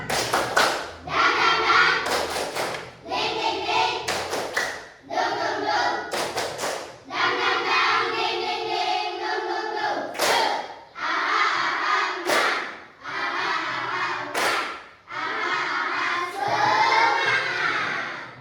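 Children in a classroom perform a rhythmic spirit clap, tepuk semangat, with loud sharp clap bursts in patterned groups alternating with shouted chant-like voices over about eighteen seconds.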